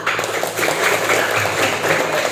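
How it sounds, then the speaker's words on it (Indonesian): A short burst of classroom applause from students during a civics lesson, quick overlapping hand claps at moderate loudness lasting a couple of seconds. "Ya, tepuk tangan."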